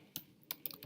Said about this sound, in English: I have to click on enter button, like return button